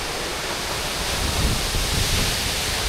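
Tad Yeung waterfall in Laos pours with a loud, continuous, hissing roar of crashing water, close by and unbroken, filling the whole stretch with dense spray-like noise.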